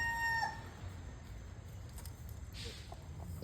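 A rooster crows faintly at the start, then low clucking from chickens continues quietly over outdoor background noise.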